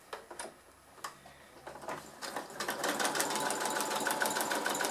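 A sewing machine stitches fabric for a glasses case, starting with a few separate ticks and short bursts before settling into a steady, fast, close-up mechanical run that grows louder toward the end.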